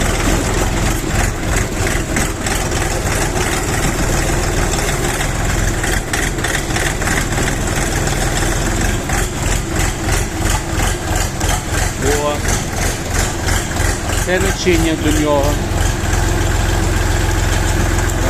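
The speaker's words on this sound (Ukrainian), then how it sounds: "запрацював двигун вже спокійно, вже не рохкає вам" A 24 hp KENTAVR mini tractor engine idles with a steady, rhythmic low chugging throughout, while a voice speaks briefly nearby.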